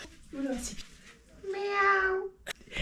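A human voice imitates an angry cat with drawn-out, wavering meows and yowls, close and fairly loud, with short breaths between.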